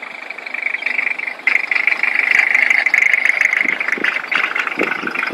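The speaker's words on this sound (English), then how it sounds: "get in the car and drive his wife home." A car engine runs steadily at a moderate distance as a man drives off to take his wife home, holding an even mid-pitched hum with a few small bumps and no talk over it.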